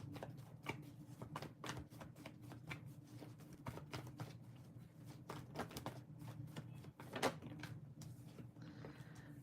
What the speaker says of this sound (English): I have to shuffle a little bit more